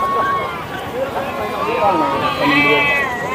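Young ram lambs, three to five months old, bleat repeatedly at a busy livestock market, the calls overlapping with loud crowd noise and nearby talk.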